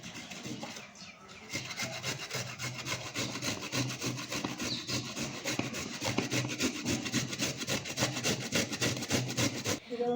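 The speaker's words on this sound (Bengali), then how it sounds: "আগে থেকে যে গাজরটা ছাড়িয়ে রেখেছিলাম সেটা একটা গ্রেটারের সাহায্যে ভালো করে গ্রেট করে নিচ্ছি" A peeled carrot is grated on a hand grater, a long run of fast rhythmic rasping strokes, close and steady, stopping abruptly at the end.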